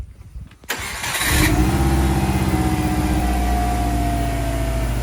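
A turbocharged Subaru EJ205 boxer engine in a Forester SF5, fitted with a Forester STI turbo intercooler and EJ207 injectors, cranks briefly and catches, then settles into a loud, steady idle close by.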